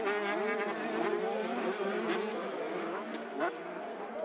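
Several 125cc two-stroke motocross bikes racing at an EMX125 round in Mantova, their high, buzzing engines wailing and shifting pitch continuously as they pass nearby, loud and steady.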